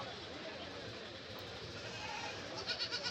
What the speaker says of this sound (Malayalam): ഇവിടെയും കുറച്ച് ആടുകൾ ആട്ടിൻ കുട്ടികളൊക്കെ നിൽപ്പുണ്ട്.